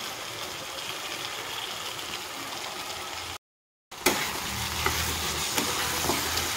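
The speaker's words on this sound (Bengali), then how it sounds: "তো মশলাটাকে আমি কষিয়ে নেব ভালোভাবে।" Spice paste with chilli powder stir-fried in a pan for a prawn and lentil dish, a loud continuous sizzle with scraping stirs, broken by a short dead silence midway before resuming just as strongly.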